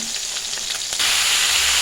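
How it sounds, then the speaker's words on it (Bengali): Cauliflower and potatoes frying in oil for a snakehead fish curry give a steady, loud sizzle that grows denser and brighter halfway through, with no talking. "ফুলকপি আলু এগুলো ফুলকপি আলু ভেজে নেব।"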